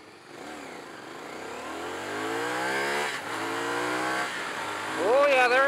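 A 2023 CFMoto 450SS sport motorcycle accelerates hard through the gears, its engine rising in pitch, dropping briefly at each shift, then climbing again in a loud, steady pull.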